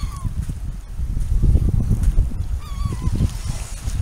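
Seagulls on a beach, disturbed and flying up, call out in short honking cries over steady surf and wind, a few calls standing out near and clear.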